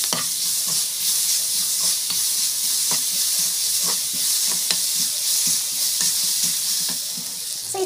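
Food is sautéed with asafoetida, salt and mango powder, a steady loud sizzle running throughout while a spatula stirs and scrapes the pan in irregular close taps.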